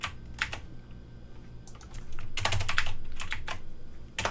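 Typing on a computer keyboard, a brief run of light, close key clicks, some spaced apart and a quicker cluster in the middle.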